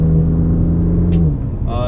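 A tuned 2018 BMW M4 with a loud aftermarket exhaust idles with a steady low drone, then the note shifts and rises near the end, heard close with a few faint clicks over it.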